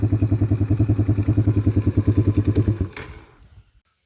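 A quad bike engine runs with a steady rapid mid-pitched chug after its battery has been recharged, then shuts off at about three seconds and fades to silence.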